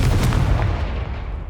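A Confringo blasting spell detonates in the Hogwarts Legacy video game, a single loud, close booming burst that rumbles and fades away over about a second and a half.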